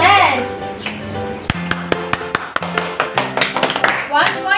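A class of grade-one children clapping their hands in a physical education lesson, a run of sharp irregular claps close by, mixed with background music and voices.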